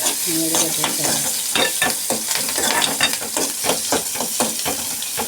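Loud, close sizzling of onions frying in hot oil with repeated scraping stirs throughout, steady and dense.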